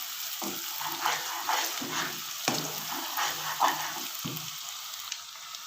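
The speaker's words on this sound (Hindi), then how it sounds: "लहसुन और प्याज जो है और अदरक का पेस्ट, इसको अच्छी तरह हमने गोल्डन ब्राउन करना है।" Steady crackling sizzle of garlic, onion and ginger paste frying in oil until golden brown, with occasional stirring scrapes and clinks, close by and continuous.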